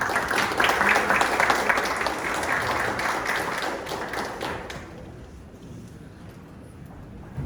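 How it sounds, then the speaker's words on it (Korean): An audience at a Korean sports media academic conference claps to welcome a presenter, a dense burst of applause that fades out after a few seconds into quiet room tone. "큰 박수로 맞이해주시기 바랍니다"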